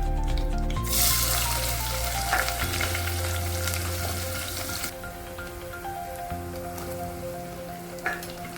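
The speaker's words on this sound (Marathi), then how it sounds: "कढीपत्ता टाकून कांदा, टोमॅटोची चांगली फोडणी करून घेणार आहोत" Onion and tomato frying with curry leaves in a tempering of cumin and whole spices, a loud steady sizzle with a sharp hiss burst near the start and clinking utensil sounds, no talking.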